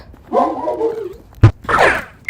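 A dog gives short yipping barks and a whimpering whine, with a sharp click partway through, heard up close during an outdoor morning walk.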